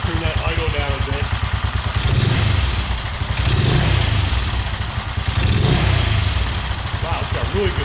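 A 1969 BSA Starfire motorcycle engine runs close by at a steady idle, then is blipped up in three quick revs that swell and fall back, with its low exhaust pulse throbbing throughout.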